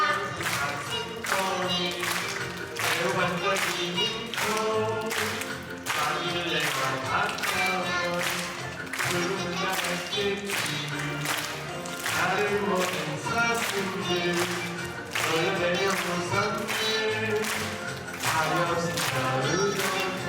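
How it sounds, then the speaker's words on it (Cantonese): At a Christmas performance, children clap along in a steady rhythm while a song with singing plays, the claps regular and fairly close. "小朋友一齊拍手好嗎？"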